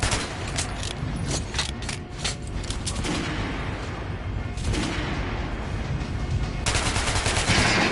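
Rapid gunfire from a PS4 shooting game's practice range, dense bursts of repeated shots filling the whole stretch, loud and continuous with a few louder volleys near the end.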